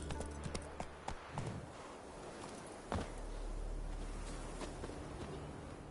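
Horse hooves clip-clopping in a video game set in Skyrim, a quick run of faint rhythmic hoofbeats over low rumbling ambience, with a brief sharper thud partway through.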